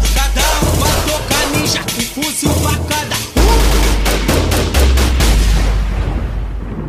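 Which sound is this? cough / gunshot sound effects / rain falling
gunshot sound effects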